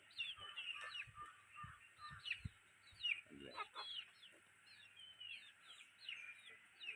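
Soft, distant chorus of chicks cheeping constantly in high chirps, with occasional low hen clucks underneath, all fairly quiet.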